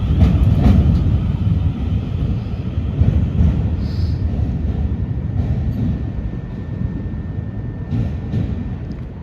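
A Southern passenger train pulls out of Portsmouth & Southsea station on a Portsmouth Harbour to Brighton service, its deep rumble loud and close and rolling steadily throughout, with faint squeals and clanks from the wheels above it.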